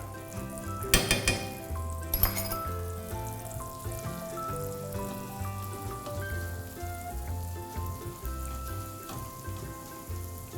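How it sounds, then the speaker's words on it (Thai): Garlic frying in melted butter in a pan for a spinach and cheese pie makes a continuous sizzle, with two sharp clatters of utensils against the pan early on and light stirring noises. No one speaks over it. "เราก็จะใส่กระเทียม ลงไป ผัดกระเทียมก่อนนะครับ"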